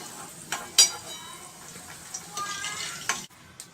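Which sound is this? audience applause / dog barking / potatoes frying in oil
potatoes frying in oil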